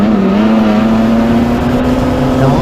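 Wingless sprint cars in a heat race roar past as one loud, sustained engine drone with a steady pitch, dense and close throughout.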